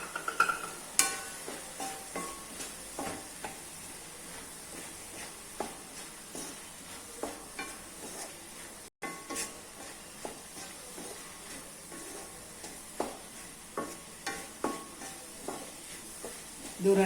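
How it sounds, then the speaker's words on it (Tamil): Beetroot stir fry with gram flour being stirred in a pan, faint soft sizzle with repeated light scraping strokes of a spoon throughout. "இது ஒரு 2 நிமிஷம் அப்படியே வதக்கிக்கலாம்."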